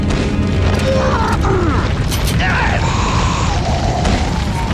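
Weapon reload in Resident Evil 4 Separate Ways during a boss fight against Krauser and Saddler, a loud burst of mechanical clicks and clacks layered with dense game effects and booms.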